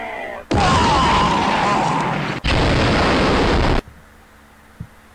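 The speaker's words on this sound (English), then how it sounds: "Now the explosion sound may happen just a little bit too late" Two loud, sustained blasts of explosion effect, the first rumbling for about two seconds, the second cutting off abruptly, then near silence with a faint click.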